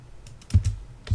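A computer keyboard is tapped to enter commands while setting up a Raspberry Pi, a few soft, close keystrokes in quick succession with no speech.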